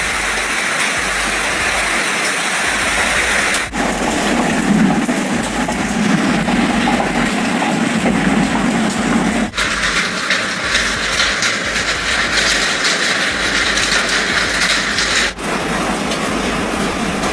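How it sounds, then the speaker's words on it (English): A hailstorm in Queensland: a loud, steady roar of hail and heavy rain pounds down across surfaces without a break. The barrage is dense and close, with a few sharp jolts in it and no speech. "Oh, now we've just got normal hail."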